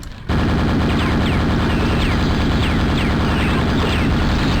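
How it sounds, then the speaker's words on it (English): Super nail gun firing in Quake: after a brief quiet start, a continuous, loud stream of rapid mechanical shots runs for about four seconds without pause, close up. "a super nail gun works perfectly fine, doesn't ever jam"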